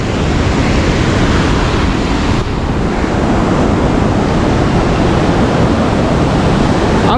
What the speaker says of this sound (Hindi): मेरे पीछे इतना तेज़ पानी बहता हुआ आ रहा है,